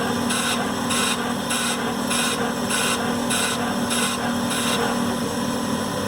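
A small lathe cuts a 10-32 thread on a custom frizzen pivot screw, with a steady machine hum overlaid by a rhythmic scraping pulse, about ten even strokes, close and continuous.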